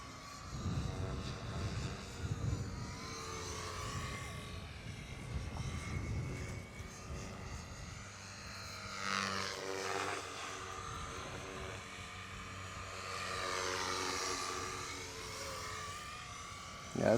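A Blade Eclipse 360 RC helicopter flies at 90% throttle, its buzzing rotor and motor whine rising and falling in pitch as it passes nearer and farther, fairly faint and continuous with no talking.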